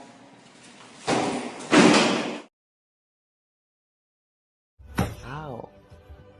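Kicks land on a heavy bag as two solid thuds in quick succession, followed by a silent gap and then a person's voice.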